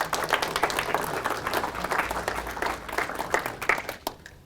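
Audience clapping at a lecture in Madison on Lincoln's Second Inaugural Address: many hands producing sharp, rapid claps that hold steady, then thin out and fade near the end.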